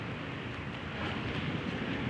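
Strong wind blows at Aroma Beach Resort in Naic, Cavite, a dense roaring rush buffeting the microphone, steady and close, growing slightly stronger midway.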